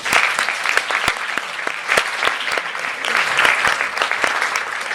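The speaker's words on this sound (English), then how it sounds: "A round of applause, please." An audience applauds after a panel discussion on the future of mobile, dense and steady clapping from a room full of people, loud and close, lasting throughout.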